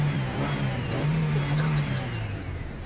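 A car engine runs steadily nearby with a low, continuous hum and slight swells in revving, with no break in the sound.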